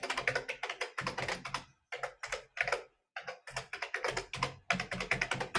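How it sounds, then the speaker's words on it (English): Rapid tapping on a computer keyboard, close and steady, in dense bursts of keystrokes broken by a few short pauses, with no speech. "Excuse me while I type this in."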